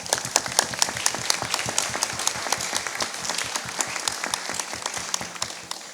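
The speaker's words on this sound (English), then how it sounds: "Big round of applause for Simon Denny." An audience at Palazzo Diedo applauds Simon Denny with a steady patter of clapping, individual claps distinct and fairly close, sustained without speech throughout.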